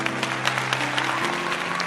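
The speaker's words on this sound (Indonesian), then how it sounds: "Tepuk tangan dulu Bapak Ibu semuanya" Applause from an audience at an anniversary talk-show event, a steady wash of many hands clapping that fills the whole stretch at moderate loudness over a faint sustained tone.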